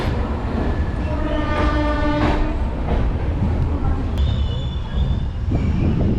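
Express train 12685 from Chennai to Calicut pulls out of Erode Junction, a loud continuous rumble of rolling wagons with steady wheel noise, a long metallic squeal of wheels on rail, and a brief high whistle-like tone near the end.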